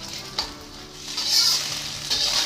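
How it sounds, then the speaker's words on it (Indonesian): Egg frying in hot oil in a wok for mie goreng, a soft continuous sizzle with crackling bursts and a few stirring scrapes, close up. "Setelah minyak panas, pertama-tama goreng telur."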